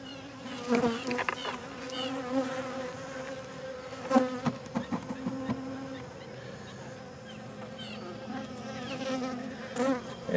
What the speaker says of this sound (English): It's a pocket swarm of bees